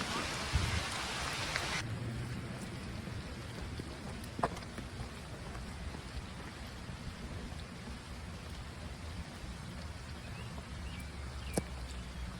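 Steady rain patters on surfaces all around, a dense continuous hiss with occasional louder drips and a faint rumble underneath.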